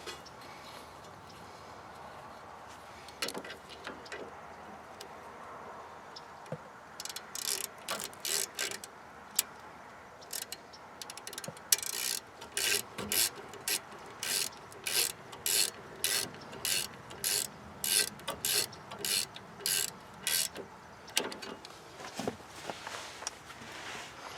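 A ratchet tightens bolts during rear brake service on a Nissan Titan, working in quick rhythmic bursts of clicking, close and fairly loud against low shop noise, with a few scattered clunks at the start and no speech.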